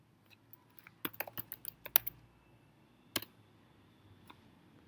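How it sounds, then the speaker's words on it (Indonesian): A computer keyboard clatters as an address is typed into a browser, a quick burst of close, sharp key clicks followed by a few isolated taps in an otherwise quiet room. "dengan membuka browser dan mengetikkan alamat nupedia.local"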